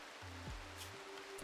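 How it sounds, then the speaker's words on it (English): Steady rain hiss fills a video game scene, a soft even wash of falling drops running throughout, with faint low tonal game sounds sliding underneath. "Why are you sleeping in the rain?"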